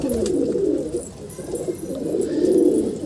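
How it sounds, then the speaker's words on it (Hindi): A female pigeon coos close by, a soft, low, continuous rolling murmur that swells twice over a few seconds with no other sound. "क्या कबूतरी है।"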